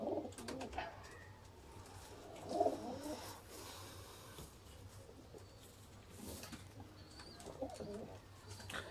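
Golden pigeons cooing, soft low coos recurring through the clip with faint chirps and background rustle, quiet and fairly close, no talk.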